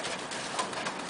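Pigeons in a family loft give soft close coos under a steady airy background hiss, brief and fairly quiet.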